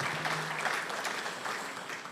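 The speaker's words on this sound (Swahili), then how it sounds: "tumpigie makofi mazuri tafadhali" Audience applause at a community iftar gathering: a steady wash of many hands clapping at moderate distance, fairly soft and even throughout, tapering slightly toward the end.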